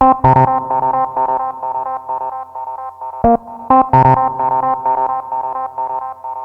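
Synthesizer melody with bright plucked notes, some trailing into echoing delay repeats, others dry without delay, steady and moderately loud, with a brief pause midway.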